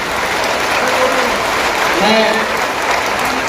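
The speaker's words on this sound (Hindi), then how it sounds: "मैं चाहता हूं एक और तालियां आपकी तरफ से आए।" Steady, dense applause from a crowd fills the whole stretch, with a single spoken word briefly heard over it.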